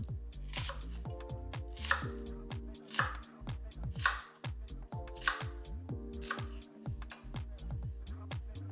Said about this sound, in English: so I'm just going to dice up the whole onion and add that in